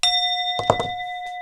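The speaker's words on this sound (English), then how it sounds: "let's hit the bell." A single bell struck once during a grounding energy session, ringing with a clear sustained tone and bright overtones that hold steadily across the whole moment, with a few soft knocks partway through.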